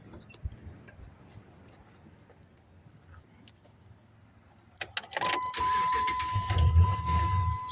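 A 2005 Dodge Ram 2500 Quad Cab with a Hemi engine starts up after quiet cabin rustling and a key jingle, cranking briefly before settling into a loud, steady idle with a low rumble and a whining tone above it.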